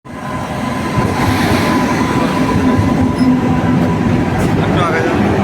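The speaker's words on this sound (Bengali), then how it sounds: "ট্রেন আসুক, এখনই চলে আসবে যদি অ্যানাউন্স করে দিয়েছে" A train rumbles loudly into a railway station, a steady heavy roar of wagons rolling over the tracks with faint clicking and a thin squeal, while people talk in the background.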